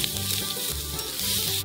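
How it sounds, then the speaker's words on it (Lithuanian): Wild boar meat and onions sizzle in a hot pan while being stirred, a steady close crackling fry with no voices. "Sudedam šernieną. Apkepė šernieną."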